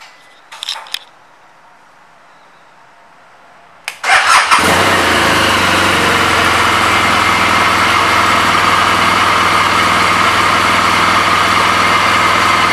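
2015 BMW R1200GS Adventure motorcycle engine, a few faint clicks, then a cranking start that catches into a loud, steady close-up idle rumble that runs unchanged to the end.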